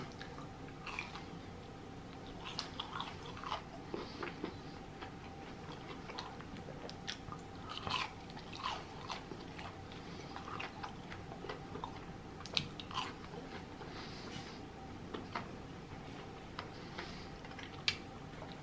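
Arby's mozzarella sticks are bitten and chewed close to the mic, with soft wet chewing and small crisp bites repeating irregularly over a long quiet stretch without speech.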